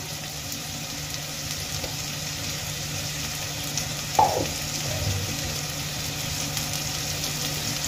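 Green chilies, slit lengthwise, dropped into hot oil with fried ginger give a steady, close sizzle with a brief louder crackle as they go in, then continue frying evenly, no voices.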